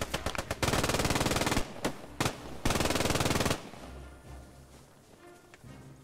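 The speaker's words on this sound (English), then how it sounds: "Shots coming from the southeast." Gunfire in the World War II shooter Post Scriptum: rapid machine-gun bursts, two long sustained strings with short single shots and a pause between, loud and close, then fading into quieter distant shots.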